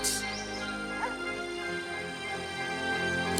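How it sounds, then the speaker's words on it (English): A dog in the video game Divinity Original Sin 2 gives a few soft whimpers and yips over a steady, busy game soundtrack, close and fairly quiet. "The dog is blinded by its muzzle, but it turns its face toward you, waiting for your answer."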